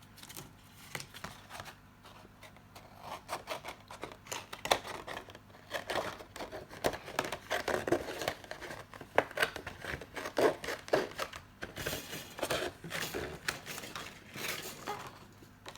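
Scissors snip through white fabric while cutting a quilt frame for paper piecing, a steady run of close, crisp cutting and rustling sounds with no talking.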